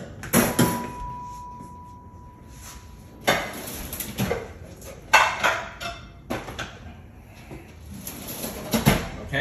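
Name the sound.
cracking two eggs into a baking pan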